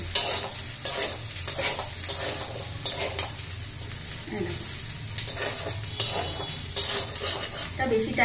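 Potatoes frying in a pan for a poppy-seed potato dish, with a spatula scraping and stirring in repeated clattering strokes over a continuous close sizzle.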